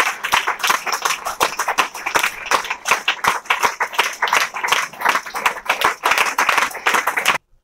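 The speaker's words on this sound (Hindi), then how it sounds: "जोशी से ताली बजनी चाहिए।" An audience at a motivational talk claps enthusiastically, dense close-up clapping that surges in uneven waves for several seconds before cutting off abruptly at the end.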